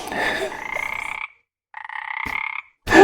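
Frog croak sound effect in a LEGO stop-motion animation: two drawn-out buzzy croaks separated by a short silence, loud and close, followed by a brief burst of another sound.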